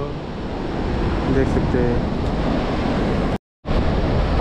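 Sea waves at Madh Island beach in Mumbai roll in as a steady broad roar mixed with wind rumbling on the microphone, with someone speaking briefly over it and a short dropout near the end.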